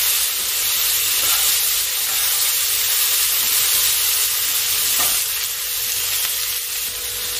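Boiled green banana and potato pieces, cooked with turmeric and salt, frying in hot oil in a pan: a steady, close sizzle with a bright hiss that holds at an even level throughout, with no talk.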